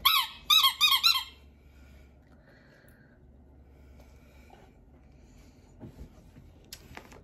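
A rubber dog chew toy shaped like a bottle gives a quick run of loud, shrill squeaks at the start, then goes quiet apart from faint snuffling and handling noises near the end.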